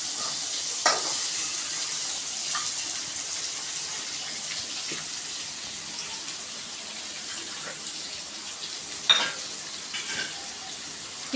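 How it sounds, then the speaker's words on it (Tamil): Chopped onions sauté in a pan for Tamil meen kulambu (fish curry), giving a steady, moderately loud sizzle with a few brief clinks and scrapes from stirring throughout, and nobody speaking. "இப்போ கட் பண்ணி வச்சுருக்க வெங்காயம் கொட்டிக்கலாம். வெங்காயத்தை நல்லா வதக்கிக்கோங்க."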